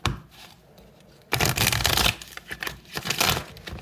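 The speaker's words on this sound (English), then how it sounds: "Let's do 2 more shuffles and get to it." Tarot cards being shuffled nearby: a quiet flick, then a few seconds of rapid riffling and slapping in uneven bursts.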